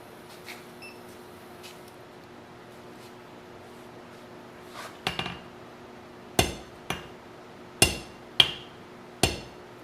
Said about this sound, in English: get the power hammer in there.